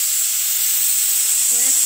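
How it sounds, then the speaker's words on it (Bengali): Pressure cooker of prawn and egg dum biryani on a medium-low gas flame letting off its whistle as a loud, steady high steam hiss, with a brief faint tonal voice-like sound near the end. "সিটিটা অলরেডি পড়ে গেল"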